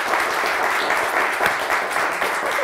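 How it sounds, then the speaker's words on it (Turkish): Studio audience applauding steadily on a Turkish television word-game show, a dense, even wash of clapping that stays loud throughout with no voices over it. "Bir alkış daha verelim size"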